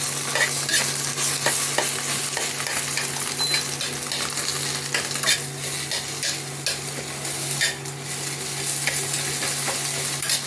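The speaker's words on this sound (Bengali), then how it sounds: "গুঁড়ো করে নেব ডিমটা" Egg being broken up and scrambled in a frying pan for chili pasta; steady close sizzling over the whole stretch, broken by frequent scraping and tapping of the utensil against the pan.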